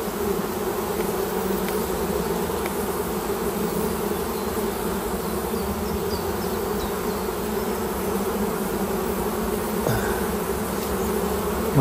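Honeybees swarm around an opened hive during a box change, a loud, dense, steady buzz that carries unbroken throughout with no voices.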